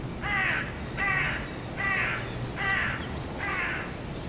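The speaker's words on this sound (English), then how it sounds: "I hear the crow calling every morning." Five harsh caws from a crow, evenly spaced and moderately loud, come from a house rooftop area over a low, steady background murmur with no voices.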